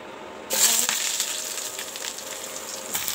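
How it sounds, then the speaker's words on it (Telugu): Cloves and cinnamon hit hot oil and butter in a pan, bursting into a loud sizzle after a brief quiet moment, then frying steadily and close. "పాన్ పెట్టుకొని దాంట్లో కొంచెం ఆయిల్ బటర్ వేసుకొని లవంగ చెక్క మొగ్గ ఇలా చేస్తున్నాను అనమాట"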